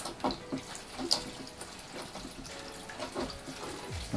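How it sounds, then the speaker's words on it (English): Water is pumped out of a portable camping sink and runs and splashes into a basin in uneven spurts, with a few drips and clicks. It sounds close and moderately quiet, with no voices. "there's more water coming out now because there's a lot more water inside the actual container on the bottom part"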